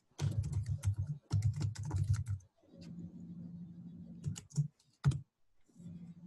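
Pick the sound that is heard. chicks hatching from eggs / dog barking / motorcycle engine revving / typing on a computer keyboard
typing on a computer keyboard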